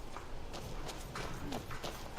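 Horse hooves clip-clopping in the Skyrim video game, a run of soft, fairly quick thuds under a low game ambience with some faint talk mixed in.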